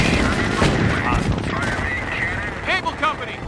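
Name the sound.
gunfire in Company of Heroes video game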